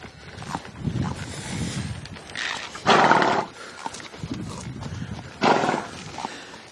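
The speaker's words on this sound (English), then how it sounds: "So you really want to keep an eye on the horse when you're doing this." A horse moves about during roping work, with hoof clip-clops, snorting breaths and loud bursts of noise at close range. No clear talk is heard.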